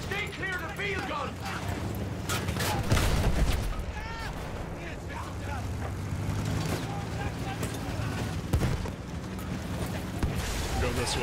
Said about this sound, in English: Stay clear of the field gun.